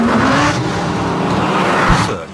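Sports cars, including a Lamborghini and an Aston Martin Vantage, driven hard up the Col de Turini mountain road: a loud, close engine roar that rises and falls with revving, with a brief tire squeal.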